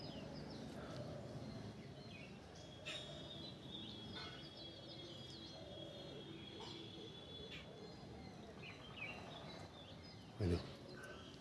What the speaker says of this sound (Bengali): সব গাছগুলোতে অনেক ছোটো ছোটো পাখি বসে আছে, এদিক ওদিক করছে।